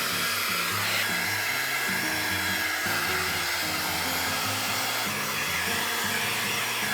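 A hair dryer blows steadily at close range while hair is blow-dried into a 90s blowout, a loud continuous whooshing roar with slight shifts in tone as it moves, no talking.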